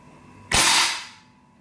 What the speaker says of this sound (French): à l'aide du bouton ici, on renvoie la culasse en avant